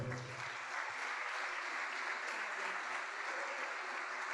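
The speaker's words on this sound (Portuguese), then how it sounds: "Vamos aplaudir ao Senhor." A church congregation claps together in a steady, even wash of applause, moderately distant and sustained throughout, with a brief low murmur of voices beneath.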